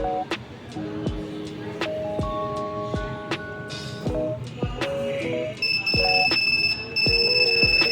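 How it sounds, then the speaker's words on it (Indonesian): An Arduino Uno buzzer alarm sounds repeated electronic beeps and tones over a busy background, triggered by heart rate above 100, with sharp clicks and sustained pitched buzzes layered on top, fairly loud throughout. "Buzzer akan menyala jika heart rate melebihi ambang batas, yaitu 100"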